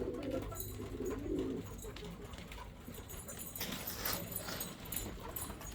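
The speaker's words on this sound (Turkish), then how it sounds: "Bunlar filo güvercinleri." Flight pigeons coo low and steady over a rustle of wing flaps and outdoor ambience, with faint voices in the background.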